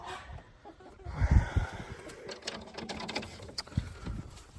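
Soft peeping and clucking of young chickens nearby, with scattered rustling and bumping sounds, no talking.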